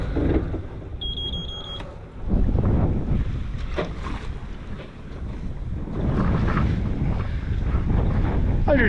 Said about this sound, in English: So we're gonna try and do a little bit of sailing now.